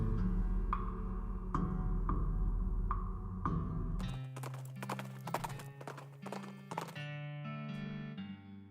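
Horse hooves clip-clop along a road in West of Loathing, a regular rhythm of distinct knocks near and clear, followed by brighter, faster clopping and a whinny-like tone, no talking.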